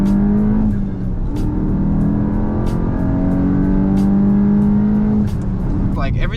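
A lowered Mk8 Volkswagen GTI on E85 with a stage 1 tune and a drop-in intake filter accelerates hard, its engine droning loudly and steadily through the gears with shifting tones, close and continuous.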